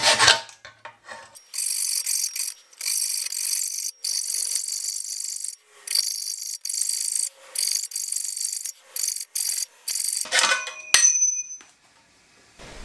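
A hacksaw cuts through a tough alloy bicycle frame tube in close, loud bursts of bright, scraping strokes separated by short pauses, ending with a ringing metallic ping and a quiet tail.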